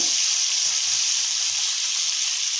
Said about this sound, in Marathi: थोडंसं बटर घालते मी यामध्ये। त्यानंतर त्यामध्ये ना आपल्याला कांदा आधी घालून घ्यायचा